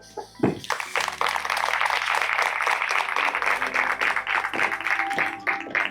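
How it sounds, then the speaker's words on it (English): Sustained audience applause fills the hall after a keynote address at an urban transformation summit, dense clapping swelling quickly and holding steady for several seconds with a few louder bursts. "Another round of applause for a very inspirational keynote address."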